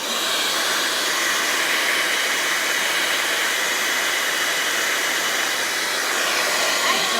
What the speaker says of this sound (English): Just blow drying because I want to be able to see the edge line for the ball